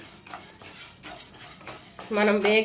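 Toor dal dry-roasts in a pan while a utensil stirs it, giving soft scrapes and light clinks, followed by a brief voice-like tone near the end.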